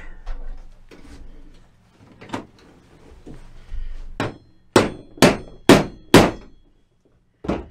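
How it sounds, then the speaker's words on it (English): A hammer taps out the front wheel bearing of a BMW K1600: softer knocks at first, then a run of four sharp metallic strikes about half a second apart and one last blow, close and loud. "And then now we should be able to tap the bearing out"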